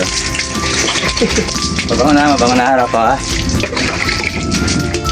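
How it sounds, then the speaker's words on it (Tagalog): Shower water sprays steadily while pet dogs are bathed on a hot day, a continuous hissing wash that runs under a person talking and a higher voice throughout. "Shower naman, shower!"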